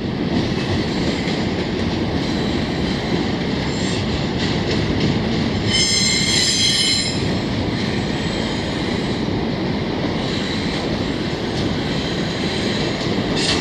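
An AMT commuter train passes through a rail yard in Montreal, with a loud continuous rumble of rolling cars, brief wheel squeals and a faint clickety-clack throughout.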